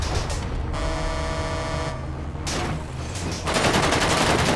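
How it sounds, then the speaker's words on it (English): Police gunfire in GTA 5 crackles in dense bursts of rapid shots, with a car horn honking in between and a heavier volley closing the stretch. "the cops are shooting at me because they think I'm purple"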